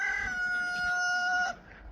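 A rooster crows once, a long, clear call with steady harmonic tones that cuts off sharply, leaving faint background noise.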